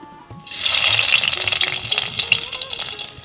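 Onions dropped into hot oil in a pan, a sudden loud sizzle bursting up after a quiet start and then crackling on steadily with scattered pops, close and without talk.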